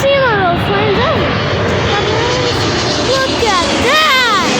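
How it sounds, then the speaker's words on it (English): A Boeing 777 roars past at O'Hare airport, its jet engines a loud sustained rumble and whine with sweeping pitch shifts, as people talk over it nearby. "It roars the 777's engines."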